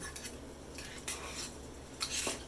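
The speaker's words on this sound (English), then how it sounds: "And now I'll mash it with the fork." Soft, irregular scraping and tapping of a fork mashing food against a bowl, several light clinks scattered through a quiet stretch.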